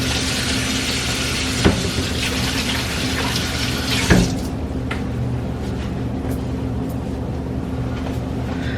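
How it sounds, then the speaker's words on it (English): A kitchen tap runs steadily into a sink during handwashing, a loud close rush of water that stops abruptly about halfway through, leaving quieter room noise with a faint hum. "Gotta wash my hands."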